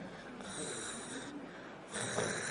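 A human voice imitates soft, thin snoring, a continuous breathy rasp lasting a couple of seconds that grows slightly louder toward the end.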